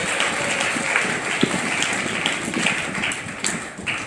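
A church congregation claps loudly and steadily in an even, sustained patter lasting the whole short stretch, with no voices over it.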